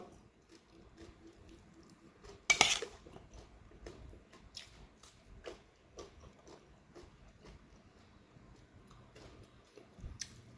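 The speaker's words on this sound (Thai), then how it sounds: "หั่นแบบชิ้นใหญ่ครับ" Sharp knife chops land on a board one after another at an uneven pace, with one heavier thunk early on and quiet stretches between cuts.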